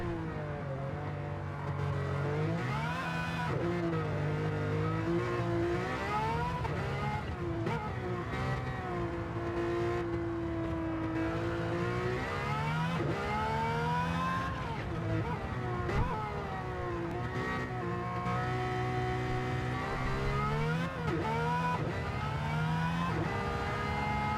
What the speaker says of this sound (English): Wheels spinning all the way up into 5th gear.